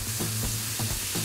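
Chicken pieces sizzling in olive oil in a hot pan over a burner turned up high, a short steady frying hiss broken by a few rhythmic scraping stirs.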